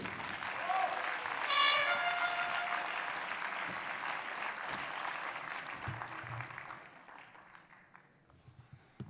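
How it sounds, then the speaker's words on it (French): Hall audience breaks into sustained applause welcoming speaker Anne Schaub-Thomas, a thick continuous clatter of many hands that slowly thins and fades toward the end, with a brief whistle early on. "Un tonnerre d'applaudissements, s'il vous plaît."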